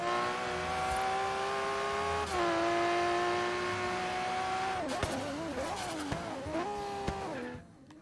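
A twin-turbo Lamborghini Reventón in Forza Horizon 3 drives with a loud, steady engine drone, dipping briefly and then wavering through throttle changes before easing off near the end.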